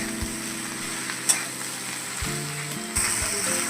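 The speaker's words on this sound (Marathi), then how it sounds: "आता याला चांगलं असं व्यवस्थित परतवायचं." Okra being stir-fried for a spicy Maharashtrian bhindi thecha, sizzling steadily in a pan with a few sharp scrapes and knocks of the spatula as it is tossed and stirred.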